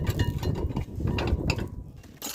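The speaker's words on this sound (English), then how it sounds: "use a flathead screwdriver and pry out the old brake" Flathead screwdriver prying old rear brake pads out of a 2015 Dodge Ram caliper, giving scraping, clicking metallic rattles in uneven bursts at close range, with no talk.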